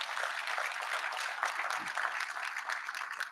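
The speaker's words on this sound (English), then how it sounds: "I think you deserve a round of applause." Steady applause from the audience at a bursary awards ceremony, a dense, continuous wash of clapping that holds evenly for a few seconds without a break.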